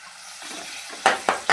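Spice masala frying in a pan for a Bengali chili chop, with a low stirring rustle giving way to three sharp bursts of sizzle as the mixture is turned.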